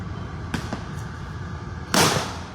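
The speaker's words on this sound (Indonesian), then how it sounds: "petasan kembali ditembakkan" Firecrackers burst during a street clash under a flyover, two sharp cracks about a second apart and then a louder, longer blast, heard from a moderate distance over a low crowd murmur.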